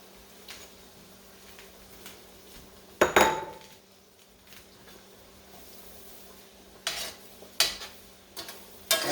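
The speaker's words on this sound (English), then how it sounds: "And you want to keep stirring this around." A spoon stirs potato soup with celery in a metal pot, giving faint scraping and a few sharp clinks against the pot's side in irregular bursts, with no talking.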